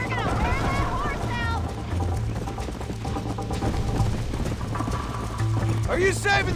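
A horse gallops in the video game Red Dead Redemption. Rhythmic hoofbeats run steadily under voices and background game sound.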